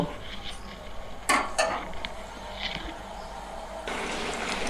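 A spoon scrapes and knocks against a pot while punka greens and potatoes are stirred over medium heat, with a couple of sharp metallic clinks early on and a faint simmering sizzle underneath.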